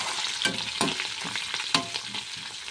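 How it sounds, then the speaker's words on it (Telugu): Tempering spices fry in a few spoons of oil in a pan for kalyani chutney, a close, steady sizzle broken by several sharp spoon stirs and scrapes. "ఇంకోండి పోపులన్నీ ఫ్రై అవ్వాలి ఎర్రగా."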